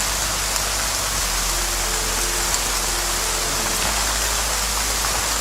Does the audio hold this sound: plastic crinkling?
no